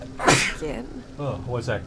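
A person lets out one loud, sudden sneeze right at the start, and then talk follows.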